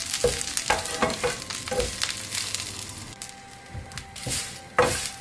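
Curry leaf powder ingredients dry-roasting in a pan, with repeated scraping stirs and a dry crackle, close and fairly loud with no voices.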